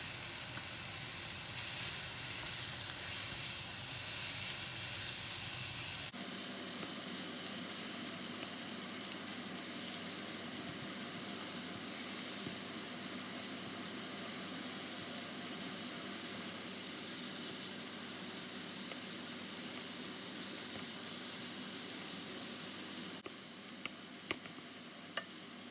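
Half-frozen pork browns in a skillet, giving a continuous soft sizzle and hiss with occasional stirring scrapes, steady and moderately quiet, with no talking.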